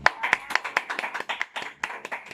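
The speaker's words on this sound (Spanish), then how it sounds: "Aplausos, eso que se necesita." A small group claps by hand at a church workshop, a short burst of sharp, uneven claps close by, loud at first and tapering off.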